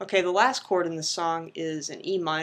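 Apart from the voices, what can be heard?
No distinct noise like a dog, phone or traffic.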